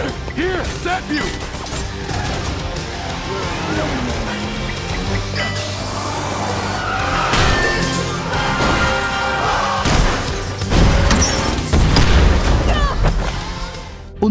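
Explosions and crashes during a car chase in the film Heads of State, with a presidential limousine under fire, forming a dense, loud, continuous action mix of booms and impacts.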